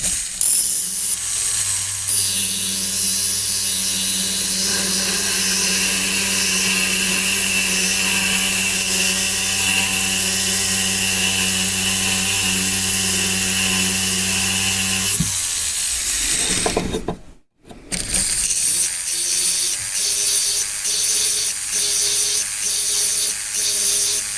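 A rotary tool fitted with a snap-on disc sharpens the edge of a handmade wax carving tool, giving a steady high whirring grind with a brief drop partway through before the whine resumes, with no talk over it.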